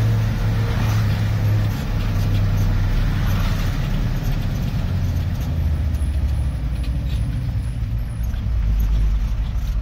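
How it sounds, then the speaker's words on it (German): Loud, steady engine drone inside the cab of an expedition truck base vehicle, a deep continuous rumble that holds for the whole stretch with no pauses. "Aber die Motorgeräusche sind überhaupt nicht geil."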